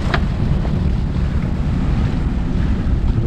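Steady, loud wind buffeting the microphone while sailing on open water near Bayonne, a constant low rumble with faint splashing beneath it and no voices.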